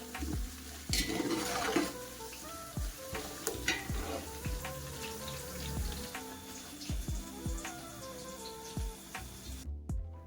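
Garlic, grated coconut, green chili and curry leaves sizzle in hot oil in a kadhai, a steady close fry broken by repeated sharp clinks and scrapes of a spoon stirring.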